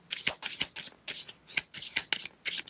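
A deck of tarot cards being shuffled close up, with quick rhythmic riffling bursts repeating steadily and softly, no talking over them.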